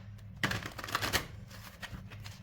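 Tarot cards shuffled by hand during a reading, a dense rustling burst of card riffles for about a second, then softer scattered card noises, with no talk.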